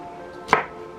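A single knife chop through okra on a cutting board, one crisp sharp tap near the middle, close and fairly loud against a quiet kitchen background.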